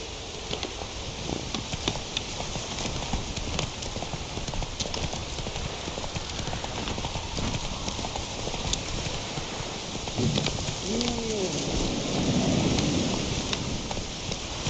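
Horse hooves clip-clop at a steady riding pace in The Witcher 3, mixed with continuous rain and low rumbles of thunder from the game's stormy world.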